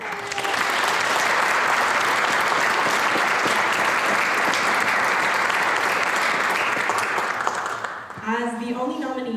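An award-ceremony audience applauds a youth STEM category nominee at a county youth awards event with dense, loud, sustained clapping for about eight seconds, then a speaker's voice comes in as it fades.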